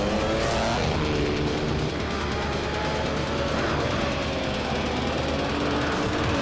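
Race cars roaring in a racing video game at the Feldbergring track, a loud, continuous engine drone with shifting pitch as several cars run nose to tail, with no break throughout.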